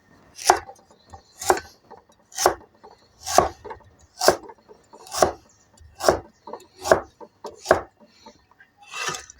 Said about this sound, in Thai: เราก็หั่นนะครับ